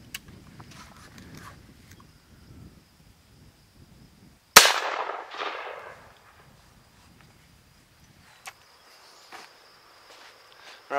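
A 12 gauge shotgun loaded through a 209 primer adapter fires once at a can from about 25 to 30 yards, a single sharp crack with a short ringing tail, set against quiet outdoor insect buzz.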